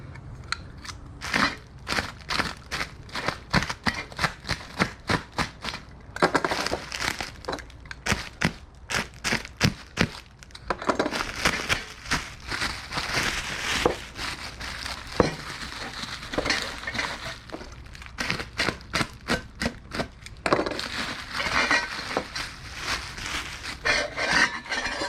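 Packaging for Megan Racing headers for a 2001 BMW M3 E46 is cut open and unwrapped, with rapid rasping cuts and rustling, crinkly scraping in bursts. The sound is close and steady with no talking.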